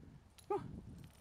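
A dog out on a walk beside a dumpster lets out a single short whine or yelp, fairly faint against low outdoor background noise.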